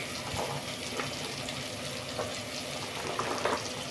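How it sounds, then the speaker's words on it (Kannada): Chopped potato and carrot frying in a pan for wheat vegetable palav, a steady close sizzle with faint stirring scrapes throughout, no voices. "ತರಕಾರಿ ಸೇರಿಸ್ಕೊತಾ ಇದ್ದೀನಿ. ಆಲೂಗಡ್ಡೆ, ಕ್ಯಾರೆಟ್,"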